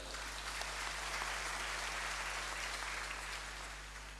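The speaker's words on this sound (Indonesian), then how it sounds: "Tepuk tangan untuk beliau" A crowd claps steadily in a dense, even wash of applause at the closing ceremony of JAMURO 2016 in Surakarta, with a low hum underneath, fading slightly toward the end.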